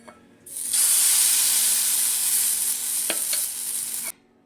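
Chitoi pitha rice-cake batter frying in an oiled kadai gives a bright, loud sizzle that starts suddenly, hisses steadily for about four seconds with a couple of brief clicks, then cuts off.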